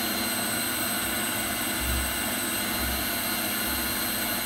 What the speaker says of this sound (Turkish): bakır boru soğuduğu zaman motor daha fazla amper çekmeye başlıyor. Sesinin değiştiğini görüyorsunuz.